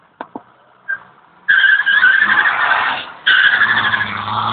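A race car at an event in Huay Li, Saraburi doing a tire burnout. A couple of short knocks come first, then a loud, close, screeching tire squeal breaks in. It dips briefly, then surges again and holds to the end.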